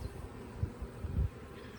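Honeybees from a top bar hive buzz in a close, low drone as comb is shaken, with a couple of brief louder swells.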